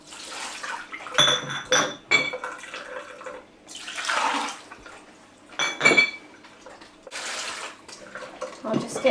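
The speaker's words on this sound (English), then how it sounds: "I need to empty these jars out." Water poured out of glass jam jars in bursts, splashing and gurgling into a sink with clinks of glass against glass, several separate pours with pauses between.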